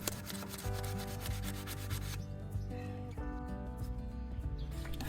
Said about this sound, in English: I'm just using that sandpaper with a 120 and then a 150 grit